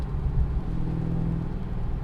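From inside the cabin, a car's exhaust gives a low, steady rumble, subdued and continuous for a couple of seconds with no talk.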